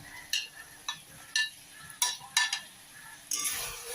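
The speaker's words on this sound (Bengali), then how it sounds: "এখন ভেজে রাখা আলুগুলো আমি এর মধ্যে দিয়ে দিই।" Fried potatoes stirred into sizzling spice paste for snakehead fish curry, with a series of soft scraping and clinking strokes of a spoon against the pan at an irregular rhythm over a quiet background.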